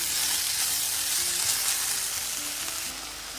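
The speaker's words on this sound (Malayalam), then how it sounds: "ഇനി വീണ്ടും ഇതെല്ലാം കൂടി നമുക്കൊന്ന് നന്നായിട്ട് മിക്സ് ചെയ്തെടുക്കാം." Kerala-style runner bean thoran with salt is stirred in a pan, a loud, steady close sizzle with light scraping and mixing noises that drops a little at the end.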